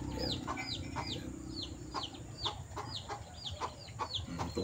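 Several chickens cluck repeatedly in short, uneven bursts, fairly close, over a steady low background hum.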